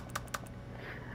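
A handful of sharp computer keyboard keystrokes click in quick succession near the start while playing The Stanley Parable, then fade into quiet room hum.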